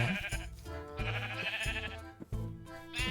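Sheep in the video game Minecraft bleat in quick succession, several wavering cries close together over a steady background of game music.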